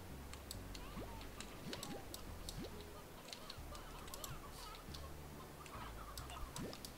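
Chickens cluck in the video game Slime Rancher, soft and scattered, over a steady hum of game ambience and occasional clicks.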